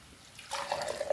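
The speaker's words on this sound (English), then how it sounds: "And I will use the same water in the mixer" Water poured into a mixer jar in a home kitchen while making Goan-style masoor dal, a short splashing pour that starts softly and grows louder and steadier, alone without talk.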